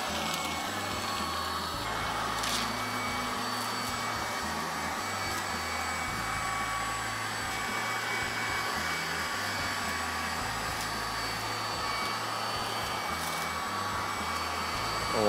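MOOSOO K23 Pro cordless stick vacuum cleaner runs on carpet with a steady, loud whirring motor hum and a fluttering low drone, continuous and close.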